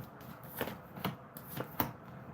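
Tarot card deck being shuffled by hand, its worn, messy cards giving several distinct riffling bursts at irregular intervals, close and fairly quiet with no voices.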